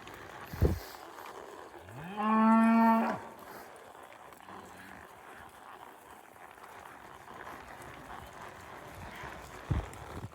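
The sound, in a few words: cattle mooing on a farm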